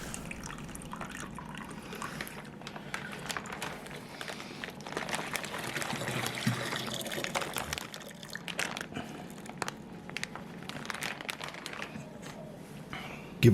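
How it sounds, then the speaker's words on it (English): Water sloshing and trickling into a wine fermenter as it is rinsed out, a steady wet splashing that runs throughout with a brief louder splash at the end. "You can also use a little bit of water just to rinse it out."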